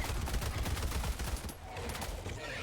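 Rapid automatic gunfire cuts down an Alpha Commander in Helldivers, a dense, loud burst of rattling shots that fills the whole moment, easing slightly toward the end.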